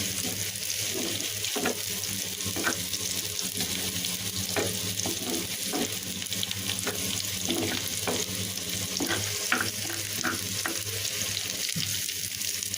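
Onion, garlic and fish frying in a pan, a steady broadband sizzle running throughout with scattered scraping stir clicks from a utensil, close and fairly loud with no talking.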